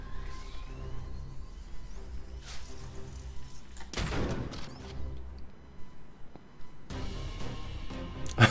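Gunfire in the video game Star Citizen, shooting at a player wearing Pico body armor: a few scattered sharp shots and thuds, with a louder crack about halfway through and another near the end, fairly quiet overall.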